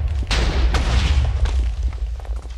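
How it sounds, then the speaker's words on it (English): A cannon fires in a Minecraft Woolfare match on a graveyard map, a sharp booming blast followed by a heavy rumbling explosion and a second boom, all loud and close with no talk. "the cannon is firing right now"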